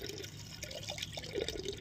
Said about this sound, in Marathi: 2 तास झालं मी पाणी भरीते, पण काय पाणी वाढा नाही बी